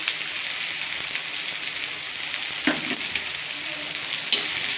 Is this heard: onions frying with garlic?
yes